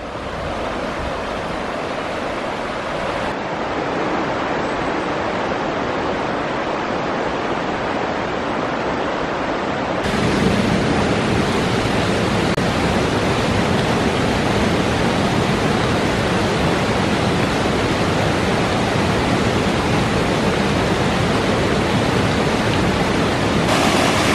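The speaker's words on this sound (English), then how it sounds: "We are getting close to Whitewater Falls." Whitewater Falls and the Whitewater River in North Carolina give off a steady, dense rushing roar with no pauses, swelling louder partway through as the falls draw closer.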